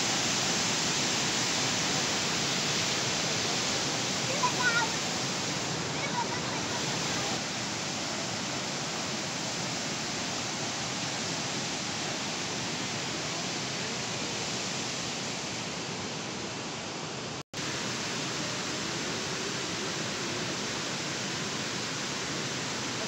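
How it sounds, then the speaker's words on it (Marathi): Small waterfall fed by water from Bhandardara dam in the hills, a steady broadband rush of falling water that holds constant throughout with a brief dropout near the end, no voices. "आपण छोटंसं धबधबा इथं पण चालू झालेला आहे"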